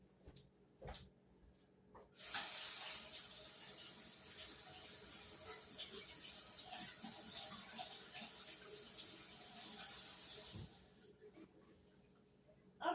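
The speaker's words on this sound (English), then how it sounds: "I'll go over to the sink and I'll give them a good rinse" Tap water runs steadily into a sink for about eight seconds as potatoes are rinsed in a strainer, a continuous close hiss with small clunks of the strainer and a few quiet kitchen sounds before and after.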